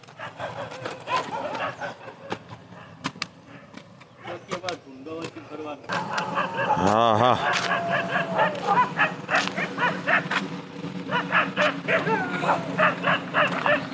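A dog barks repeatedly on a village farm in Gujarat in the early morning, with sharp barks and yips that get more frequent partway through. People talk nearby.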